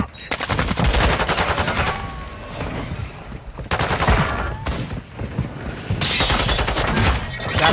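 Rapid bursts of submachine gun fire in the game Modern Warfare 2, loud clattering volleys with short pauses between them, close and continuous over several seconds.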